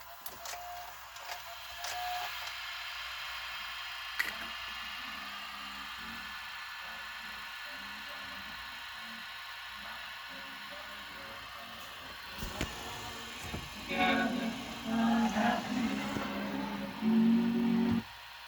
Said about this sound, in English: That head motor sounds super loud like that other Toshiba that I have